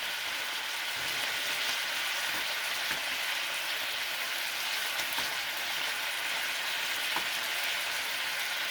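Steady, close sizzling of fresh shellfish frying in butter and its own juices in a hot pan, a constant crackling hiss with small pops scattered throughout and no talking.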